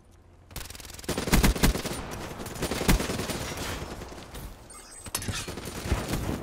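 Rapid bursts of ICR-1 assault rifle fire in Black Ops 3 multiplayer, loud and close, with dense rattling volleys, short gaps and explosive impacts layered over game ambience.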